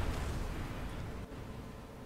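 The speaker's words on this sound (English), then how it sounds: "The random explosion when I switch to map view" A sudden explosion glitch in Kerbal Space Program, where a craft blows apart when switching to map view: a dense, loud rumbling blast that fills the whole clip with steady low roar and slight fading.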